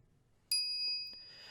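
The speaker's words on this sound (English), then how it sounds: "After 120 seconds pass, the microwave chimes." A microwave in the Steins;Gate game chimes once with a bright, sharp ding that rings on briefly, followed by a faint click, with near silence before it.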